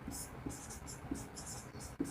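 Marker or chalk writing on a board during a physics lecture on the vector form of Coulomb's law, with soft scratchy strokes spread through the clip and a few brief taps, faint hum underneath and no clear talk.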